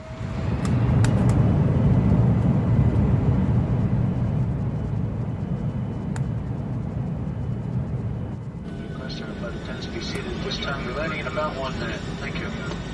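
An airplane takes off with a loud, steady roar of its engines that holds strong, then settles into a somewhat lower, even drone with a faint higher whine.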